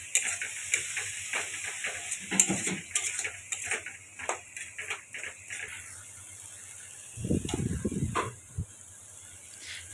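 Spices, salt, turmeric and tomato sizzle and are stirred in a pan, with scraping and clinking of a spatula in irregular bursts, a louder stirring rattle near the end.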